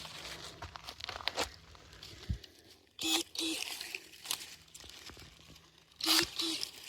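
Electric pruning shears cut through a palmetto plant outdoors with a couple of sharp snipping crunches, followed by leaves rustling and crackling as the plant falls, fairly close, with talk around it.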